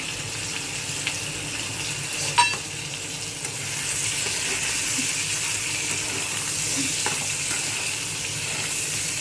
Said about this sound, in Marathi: आता अद्रक लसूणची पेस्ट चांगली फ्राय झालेली आहे. त्यात आपण कांदा टाकू.